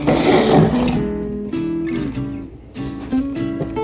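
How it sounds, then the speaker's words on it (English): Water from canned chickpeas is poured off into a sink, a loud splashing gush at first that settles into a thinner trickle with faint metallic clinks. "Strain off all that water, guys."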